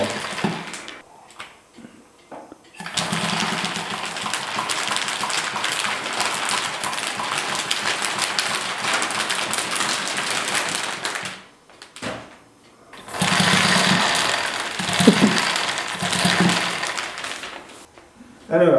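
Allis-Chalmers WM tractor engine running as the machine moves forward, a steady broadband rumble that drops out briefly near the middle before resuming loud, with faint voices in the quieter gaps.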